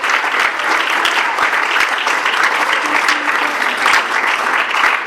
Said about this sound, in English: I want you to clap your hands unto the Lord today.